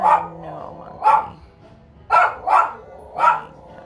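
A dog barks in short, separate yips and woofs, about five barks spaced unevenly, near and moderately loud, with faint whimpering between them.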